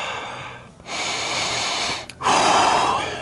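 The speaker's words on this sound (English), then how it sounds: "I'm out of breath." Heavy, close breaths after the exertion of working on a VW Golf exhaust, three long rasping inhales and exhales with brief pauses between, the last one loudest.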